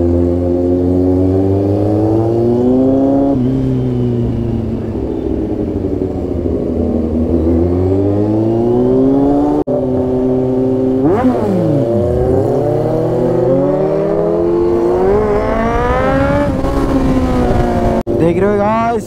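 A KTM motorcycle ridden on a road on Independence Day, its engine revving up and down through gear changes, loud and close, with speech over it.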